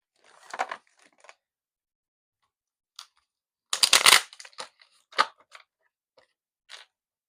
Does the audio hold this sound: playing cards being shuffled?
yes